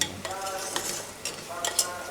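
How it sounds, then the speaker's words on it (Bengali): Vegetable curry sautéing in a pressure cooker on a stove: a continuous close sizzle with repeated scraping stirs of a spoon against the metal pot. "একটু তরকারিটা কষাই নিচ্ছি প্রেশার কুকারে।"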